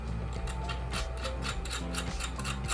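A nut being screwed down a bolt on a DIY flower press, giving a steady rhythmic metallic ticking and rubbing, like a ratchet, repeating over a low constant hum, no speech.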